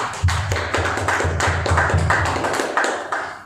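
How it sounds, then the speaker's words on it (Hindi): A church congregation at a Sunday evening service claps together in thanks to God, a steady run of roughly a dozen sharp, evenly spaced claps, fairly close and with no talking over it. "तो क्यों ना इस समय ताली बजा के परमेश्वर का धन्यवाद दें।"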